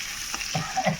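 Dry red chillies, cumin and onion frying in oil make a brief, close burst of sizzling with a couple of stirring scrapes.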